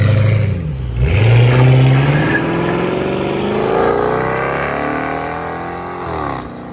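The muffler-deleted exhaust of a 2006 Dodge Magnum R/T 5.7L HEMI V8 revs up hard with a raw, unmuffled roar, the pitch climbing and settling as the engine winds up and eases off.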